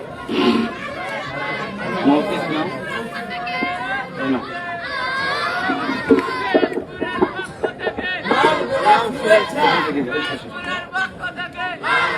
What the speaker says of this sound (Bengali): একটু আল্লাহু আকবার বলেন।